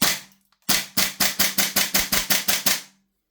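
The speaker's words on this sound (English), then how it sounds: "Haven't shot this in a while. So Toxicant Rattler, normal MWS mag, Coleman's propane." A Toxicant Rattler airsoft gun with a standard MWS magazine, running on Coleman propane, fires one sharp shot, then after a brief pause a quick rapid burst of about ten evenly spaced cracks, loud and close.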